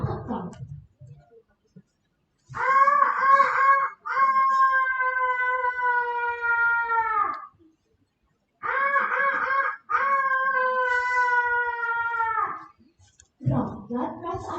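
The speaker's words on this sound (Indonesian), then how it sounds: "Terdengar suara ayam jantan bergonggong, bersahut-sahutan" Two long, steady rooster crows ring out one after the other, the second answering the first, each lasting several seconds with a short pause between and a brief burst of other sound at the start and end.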